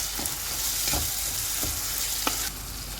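Ginger, fenugreek, salt and masala fry for bhindi masala, a steady close sizzling hiss broken by a few regular spatula scrapes in the pan, with no voices.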